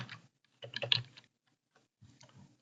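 Typing on a computer keyboard, with quiet key clicks coming in two short bursts separated by a pause.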